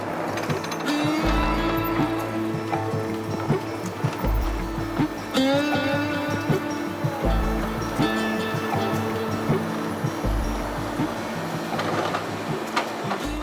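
Planer fitted with a helical cutterhead running cherry wood: a loud, continuous machine roar with dense whirring and rattling, and deeper thumps recurring every few seconds as boards feed through.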